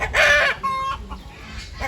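A hen clucks loudly up close in a quick burst, followed by softer intermittent clucks and a faint squawk.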